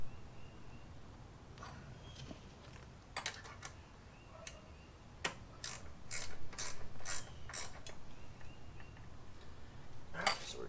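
Bolts are tightened on the rear drive assembly of a McLane reel mower, giving sparse, then quicker ratchet clicks and metallic ticks at close range, with no talk over them.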